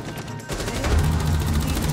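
Gunfire into a wooden box in Rainbow Six, a dense rapid stream of close shots and impacts running continuously for about two seconds.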